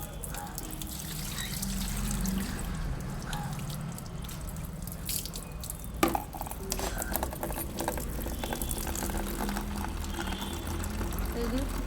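Drinking water runs from a timed public tap, with a steady trickle and splash continuing throughout as a person talks over it nearby.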